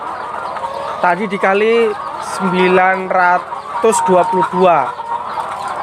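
Laying hens on a poultry farm of about a thousand birds cluck and squawk in close, loud bursts, with rising and falling calls over a steady background hum and a brief spoken phrase.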